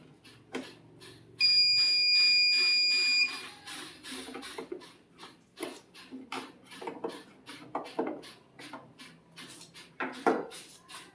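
A chain-triggered sensor alarm sounds a steady high electronic tone for about two seconds, set against a run of regular ticking clicks and soft handling noises.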